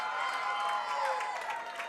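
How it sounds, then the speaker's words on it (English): Crowd at a high school football game at Summertown, heard faintly and at a distance as a soft, continuous wash of cheering and clapping. "getting some cheers from the crowd"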